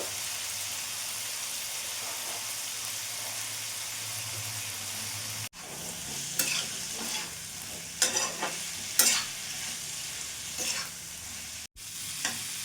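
Chicken mince being stir-fried with a little ground black pepper, heard as a constant close sizzle, then irregular spatula scrapes and clacks against the pan in the second half; no talking.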